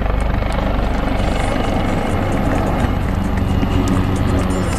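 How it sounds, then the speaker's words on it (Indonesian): A helicopter close by, its rotor thumping in a fast, steady rhythm under a loud engine drone. "Wow, lanjut ada helikopter."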